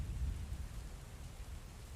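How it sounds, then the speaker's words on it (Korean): Steady, soft rain tapping on a window with a low rumbling undertone, continuous and fairly quiet, with no voices. "창문을 두드리는 빗소리가 제 마음을 부드럽게 적셔주고 있었습니다."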